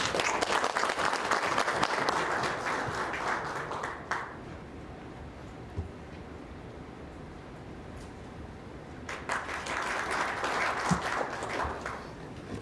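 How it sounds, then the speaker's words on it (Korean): Applause from an audience at a Korean nuclear power industry policy lecture, loud sustained clapping for about four seconds, dipping to a quieter room, then a second burst of clapping swells near the end. "박석빈 위원님을 큰 박수로 모시겠습니다."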